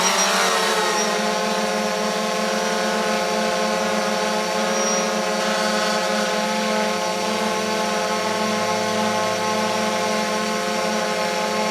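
A DJI Phantom 4 drone carrying an Insta360 camera spins up its motors, a loud steady multi-toned whine with a rising start that then holds constant and close throughout.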